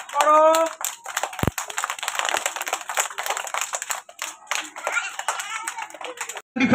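Many children clap hands at a school Teachers' Day prize-giving, a crisp, crowded stream of claps running for several seconds, with bits of speech mixed in, a short break near the end, then more clapping.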